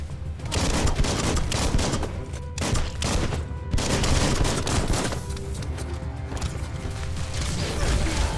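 Gunfire from the video game Biomutant is heavy and continuous, with dense bursts of rapid shots and mechanical clatter. Short gaps break the barrage.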